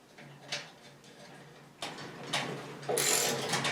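Ratchet tightening washers and nuts onto bolts during gravel drag repairs, giving a few short bursts of close metallic clicking separated by brief pauses.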